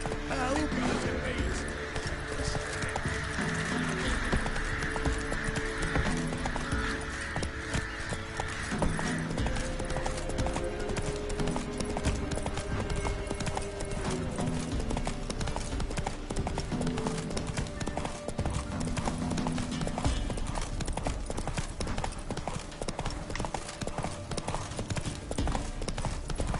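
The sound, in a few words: horse hooves galloping in video game The Witcher 3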